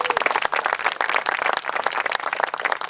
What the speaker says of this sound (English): Let's give her another round of applause.